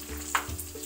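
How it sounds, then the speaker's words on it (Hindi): Whole spices and onion frying in hot oil in a pan at home for an Uttarakhand-style handi chicken, a soft steady sizzle with a brief brighter crackle as the onion goes in, no voices. "तेल हमारा गर्म, इसमें डालेंगे हम खड़े मसाले, ऑनियन डालेंगे हम इसमें"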